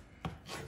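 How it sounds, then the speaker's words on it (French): Knife chopping food finely on a board while preparing a coconut and shrimp chutney, a single firm cut followed by softer scraping, close and fairly quiet. "je vais venir les hacher en petits morceaux"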